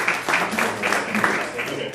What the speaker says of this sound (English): Let's give a round of applause for that, by the way.